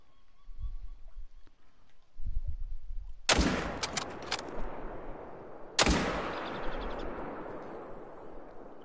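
Two sharp rifle shots from a 30-06 bolt action fired at a bull elk, about two and a half seconds apart, each cracking loudly and then trailing off into a long echo; faint rustling comes before the first shot.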